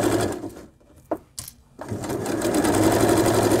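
A sewing machine runs along fabric edges in quick bursts, its rapid stitching buzz stopping briefly for a few clicks and handling noises before resuming steadily and close by.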